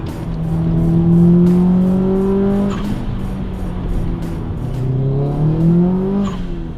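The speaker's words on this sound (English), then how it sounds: "there's no escaping that flat 4 growl" A loud flat-four engine in a Subaru Impreza 'blobeye' growls through a 3.5-inch custom exhaust, revving up in long rising pulls with a pause between, close and deep.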